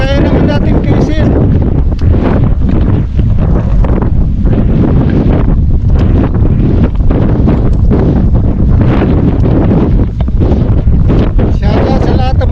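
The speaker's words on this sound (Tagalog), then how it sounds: "Hangin." Steady, loud wind buffets the microphone while riding a bike outdoors, a constant broadband roar with brief gusty dips throughout.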